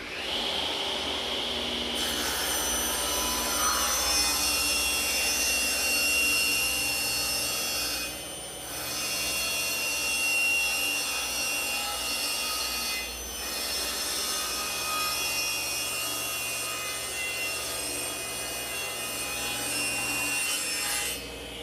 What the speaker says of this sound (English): I'm going to rip all my pieces about 1/8 inch wider than what I really want as a finished product.